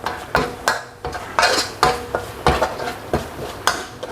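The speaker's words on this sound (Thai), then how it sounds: "ก็ผัดให้มันออกแห้งๆไว้ก่อนนะครับ" Crispy pork with red curry chili paste is stir-fried in a pan, a metal spatula scraping and clanking in a steady rhythm of sharp strokes roughly every half second, close and loud, with no talk.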